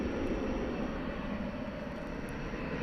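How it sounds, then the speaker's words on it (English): An American Airlines jet starts its takeoff roll at DFW Airport at night, giving a steady, loud, broadband engine roar that holds without a break. "Looks like American Flight 1588 to Austin has just started its roll."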